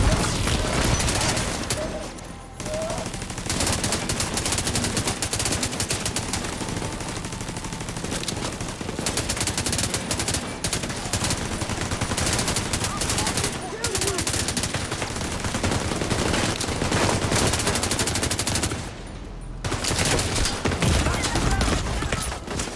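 Sustained gunfire in the shooter game The Division 2 as weapons fire at enemy fuel tanks. Rapid bursts keep going almost without a break, with short lulls, and combat noise stays loud throughout.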